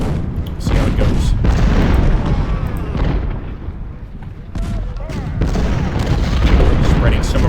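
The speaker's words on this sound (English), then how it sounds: "I like the way that those artillery pieces are working on top of the hill there over time" Civil War artillery in the strategy game Ultimate General Civil War: repeated deep booms and cannon blasts rolling over a dense battle din, loud and continuous, with a voice talking over it.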